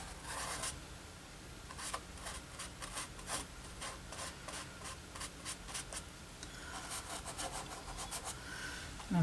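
A paintbrush loaded with two greens rubs paint onto the painting surface in a series of soft, dry scrubbing strokes, close and quiet, coming in irregular bursts with short pauses between.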